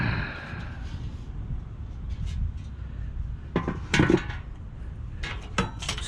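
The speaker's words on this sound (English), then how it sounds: "Hey, that's a little camping, cast iron camping gear," Cast iron camping cooking gear is shifted and knocked about, a few clanks and heavy metallic thuds clustered near the end over a low steady background rumble.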